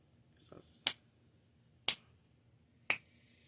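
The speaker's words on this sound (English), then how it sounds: "Snap my fingers 3 times" Three sharp finger snaps ring out about a second apart during a two-queens sandwich card trick, crisp and close in a quiet room, preceded by a softer rustle.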